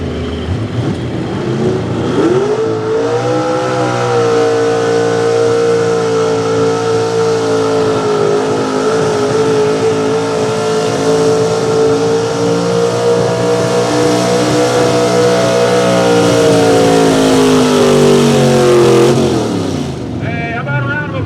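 A pulling truck or tractor runs at full power at a truck and tractor pull, its engine roaring loud and close with a steady sustained howl and slight flutter for nearly twenty seconds, swelling in at the start and cutting off near the end.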